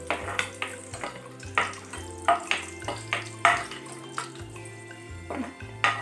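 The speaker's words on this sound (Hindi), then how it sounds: "तो पहले मैं अपना ये बादाम जो है इसको मैं फ्राई कर लेती हूँ।" Almonds frying in a pan for sweet zarda rice: a run of regular scraping and stirring clatters over a steady low sizzle, close and moderately loud, with no talking.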